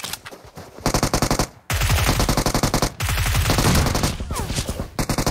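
Rapid automatic gunfire from PUBG Mobile on the Miramar map, loud bursts of full-auto fire broken by short pauses, several sustained strings of shots close by with no talk.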